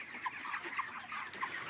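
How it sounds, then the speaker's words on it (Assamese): A flock of 3000 broiler chickens, 29 days old, on a farm with respiratory disease, clucks softly and continuously at a distance, with scattered faint calls over a low background hum. "ইয়াতে আপোনাৰ 3000 ব্ৰয়লাৰ মুৰ্গী আছে"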